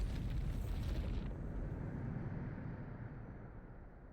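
The Bombarda blasting spell in Hogwarts Legacy sets off a deep, rumbling explosion that starts strong and slowly fades away over several seconds.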